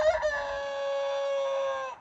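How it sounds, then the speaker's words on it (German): A rooster crows once, close and loud, a single clear cock-a-doodle-doo that opens with a short rising note and then holds a long, steady, bright cry before cutting off. "der Joe hat mir endlich ein Kikeriki geschenkt, das ich die Kamera dabei hatte"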